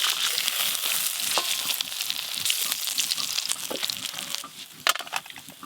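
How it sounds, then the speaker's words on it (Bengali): Pieces of shankar (stingray) fish fry in hot oil in a home kitchen, giving a close, constant sizzle with sharp crackles and a few clinks of stirring, and nobody speaking. "দেখতে দেখতে এই মাছগুলো ভাজা হয়ে গেল।"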